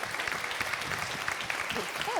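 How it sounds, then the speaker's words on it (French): Audience applause following a French read-aloud of a book, steady clapping filling the whole short stretch at moderate level. "je tiens absolument à ce qu'ils aient un grand applaudissement"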